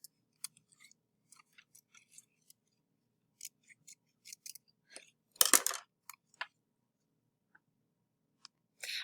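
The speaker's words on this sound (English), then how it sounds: "Try to make your cuts smooth though. Take your time and cut out" Scissors cutting a paper tree shape, quiet close snips in an irregular series, a louder burst of cutting near the middle, otherwise near silence.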